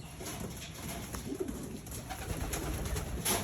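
Racing pigeons coo softly in a loft, low murmuring calls repeating over a steady background hum with no talking.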